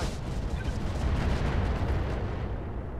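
A pair of AC-10 autocannons fires in Roguetech, a mech battle game, producing a heavy, continuous rumbling barrage of close, loud booms that tapers slightly at the end, with no talking.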